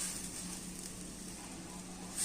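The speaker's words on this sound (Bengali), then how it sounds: "ডিমটাকে নেড়ে নেড়ে একদম ঝুরঝুরে করে নেব।" Egg frying with spices in a pan as it is stirred into dry crumbles, giving a steady soft sizzle with faint scraping, moderately quiet and uninterrupted.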